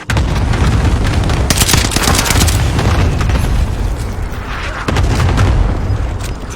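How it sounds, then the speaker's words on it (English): A rapid cluster of loud booms and blasts from a video game airstrike, rolling in dense bursts with gunfire-like cracks mixed in, briefly easing before another heavy volley near the end. "target for airstrike. Got your request. Cluster strike is active."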